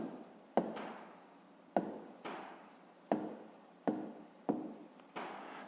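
A pen scratches across paper in repeated short strokes, each starting with a small tap and trailing off, close and quiet.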